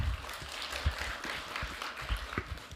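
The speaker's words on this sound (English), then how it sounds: "with a big round of applause" A crowd applauds steadily, a dense patter of many hands clapping at moderate volume with no voices over it.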